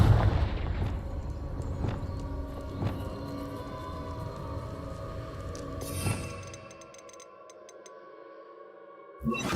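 Confringo blast spell from Hogwarts Legacy, heard as a series of sharp impacts with ringing, metallic tonal decays, a strong crack near the middle, then a bright shimmering chime pattern and a final hit after a quiet stretch.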